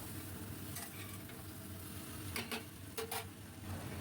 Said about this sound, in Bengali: আবারও বেশ ভালো করে নাড়িয়ে নেব, চিনিটা যাতে গলে যায়।